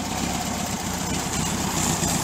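A rebuilt VW Bus engine idles steadily after a cold start, a constant close, loud mechanical rumble with no pauses and no voices.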